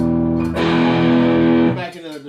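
A sustained, heavily distorted electric guitar chord through a Blackheart Handsome Devil 15-watt tube amp rings out loudly, then breaks off into a fading, gritty decay.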